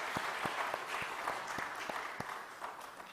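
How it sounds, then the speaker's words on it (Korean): A church congregation at a Sunday service claps in a lively burst, dense hand claps with sharper individual strikes standing out, fairly close and with no talking. "우리 하리스 가족을 위해서 주의 이름으로 축복하는 박수 한번 더 하겠습니다."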